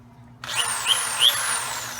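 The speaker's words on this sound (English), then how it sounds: "We need our electric drill." A DeWalt electric drill spins up and runs steadily, with a high whine that swells slightly twice, close and alone over a faint low hum.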